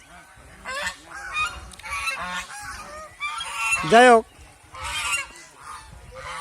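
Domestic geese give several loud, nasal honks close by, with the harshest call near the end. Someone speaks briefly among the calls.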